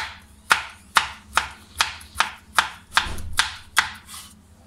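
A medium tomato being cut with a knife on a board, about nine sharp, evenly spaced chops ringing out close and crisp, with no voices over them.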